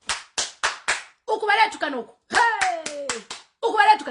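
Several sharp hand claps in a quick sequence come close and loud, then break off as a voice and other speech take over, with a few more claps scattered between the talking.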